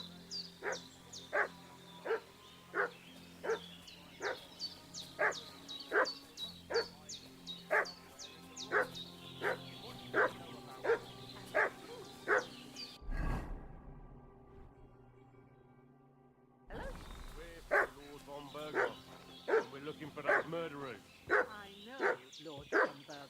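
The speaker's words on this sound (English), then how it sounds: "What's that dog making such a fuss about?" A dog in the medieval video game Kingdom Come: Deliverance II barks in a steady, rapid series of sharp yelps, cuts out briefly into near silence, then resumes barking insistently.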